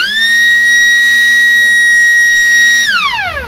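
An electronic alarm siren on an oil-fired boiler's control panel sounds as a loud, steady, piercing tone for about three seconds, then slides down in pitch as it winds off.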